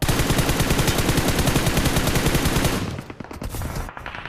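Rapid automatic gunfire in a PUBG-style battle royale game, loud, continuous bursts that cut off near the end, leaving quieter scattered noise.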